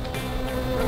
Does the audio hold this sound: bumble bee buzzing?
yes